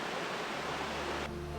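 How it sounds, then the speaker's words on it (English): A high waterfall gives off a continuous rushing hiss, like broadband noise, steady and fairly faint. "I don't think I've ever seen a waterfall fall from that high."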